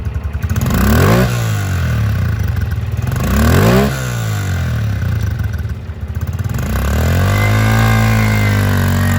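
A used 2014 Honda CRF125F big wheel youth dirt bike runs up close, its small single-cylinder engine rising and falling through three or four loud revs with a steady idle between.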